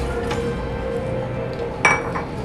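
A metal cake tin being picked up and handled in a kitchen, giving faint scraping and a single sharp metallic clink over low background hum.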